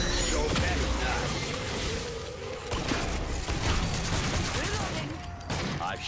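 Rapid gunfire bursts in the video game Killing Floor 2, a dense run of sharp shots and impacts with mechanical clatter, fairly loud throughout.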